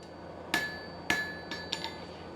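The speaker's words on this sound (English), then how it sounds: "Andrew finishes forging his batch of steel leaves for the day." A blacksmith's hammer forging steel leaves: five sharp metallic strikes ringing out against a quiet workshop, two well spaced, then three quicker, lighter taps.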